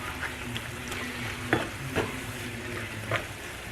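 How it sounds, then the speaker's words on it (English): Food sautéing in a hot pan with a steady sizzle, broken by a few soft scraping stirs as the spatula moves it around, close up and with no voices, while keto al pastor meat is prepared. "I'm going to continue to saute this and just keep moving it around until we get this all cooked through"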